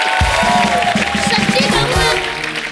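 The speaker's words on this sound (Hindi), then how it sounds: "जोरदार तालियां इनके लिए" Audience applause and cheering from a studio comedy show crowd, steady and loud across the whole stretch with music or voices underneath.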